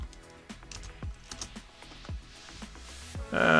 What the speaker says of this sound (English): we're just going to type in hello world.py